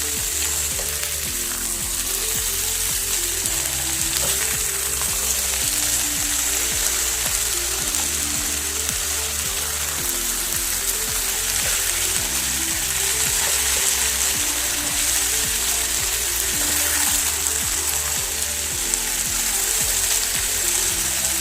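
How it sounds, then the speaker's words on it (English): Sliced potatoes fry in a pan with a loud, continuous sizzle and crackle, steady and close throughout, with a faint stirring texture and no talking. "I am adding 1 bowl of sliced potatoes."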